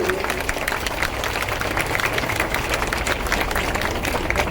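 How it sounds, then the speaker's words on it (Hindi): A crowd at a school Independence Day celebration bursts into steady, loud applause, a continuous wash of many hands clapping at once with no pauses. "उनके लिए जोरदार तालियां होनी चाहिए।"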